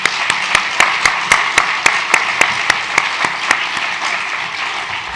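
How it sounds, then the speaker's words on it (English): Audience applause at a Utah history conference, a steady wash of many hands clapping, with a few louder distinct claps standing out at a regular rhythm close by, lasting about five seconds. "Please join me in giving a round of applause to our speakers."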